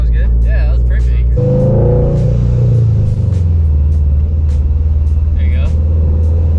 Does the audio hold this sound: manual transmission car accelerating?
yes